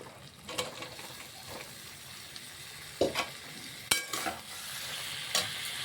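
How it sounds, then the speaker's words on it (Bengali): Fried potatoes and boiled jackfruit stir-fried in spice paste, with a soft continuous sizzle and several sharp scraping strokes of a spoon against the pan at irregular moments. "দিয়ে ভালো করে আমরা কষিয়ে নেব 1 থেকে 2 মিনিটের মতো।"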